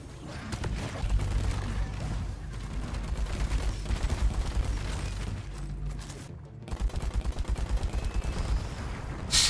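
Dense gunfire crackles through a Deep Rock Galactic battle, with rapid automatic bursts, heavy thuds and booms layered over each other, close and loud, with a brief lull before the firing resumes.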